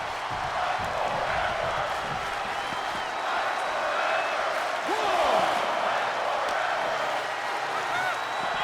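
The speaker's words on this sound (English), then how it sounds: "And you can hear this crowd" Crowd noise from a WWE 2K Universe Mode wrestling video game forms a steady, hissing roar that swells briefly partway through, with a commentator talking over it.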